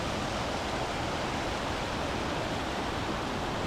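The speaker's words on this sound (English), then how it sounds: "The creek coming down here. Got a nice fall right through here." A mountain creek near an old gold camp in Leadville, Colorado spills over a small waterfall, a steady, dense, close rushing roar with no other sounds.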